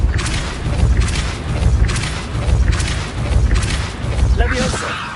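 The Depulso spell is cast repeatedly in the Hogwarts Legacy video game, producing a series of loud, booming magical blasts with thuds at a steady rhythm, up close and continuous.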